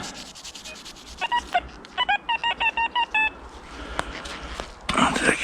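A Deus 2 metal detector in a forest sounds a series of about ten short, evenly spaced electronic beeps, loud and clear over faint rustling background noise.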